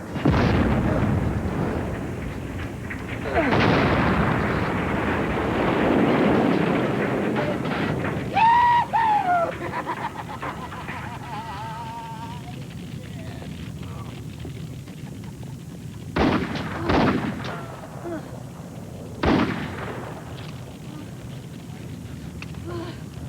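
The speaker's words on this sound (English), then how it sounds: "Stop shooting." Gunshots ring out in a TV drama scene, a burst of loud booming blasts followed by a few sharp isolated reports, with brief scattered noise between them.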